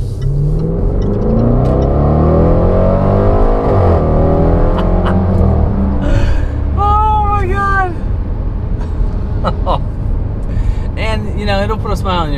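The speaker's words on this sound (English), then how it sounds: "It's just a beautiful sounding engine." The 2020 Range Rover Velar SVAutobiography engine revs loudly and close, with rising and falling pitch sweeps as the motor climbs through the gears and then settles.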